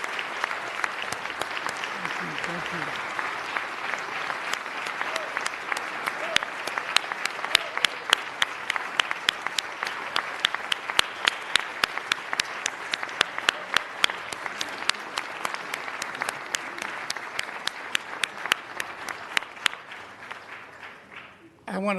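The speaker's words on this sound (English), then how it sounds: "Give him a round of applause." An audience applauds founder Pastor Sonny of Victory Outreach International at a Los Angeles City Council session, with dense, steady clapping from many hands that carries on for about twenty seconds and fades out near the end.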